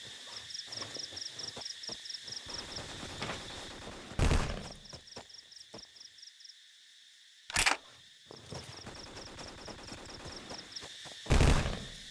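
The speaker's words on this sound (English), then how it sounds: "time to get a proper weapon and do some shooting practice on the range" Gunfire on a shooting range in the Vietcong video game: three loud single shots at spaced intervals, heard over a steady buzzing ambience of looping insect-like chirps.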